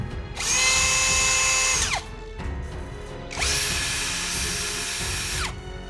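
A 2024 OSUKA cordless brushless drill rated at 65 Nm whirs up to a high-pitched spin, winds down, then runs again in a second long burst, close and loud with no talk.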